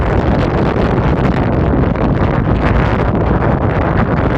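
Strong, steady wind roars against the microphone, a constant loud blustering rush with no letup.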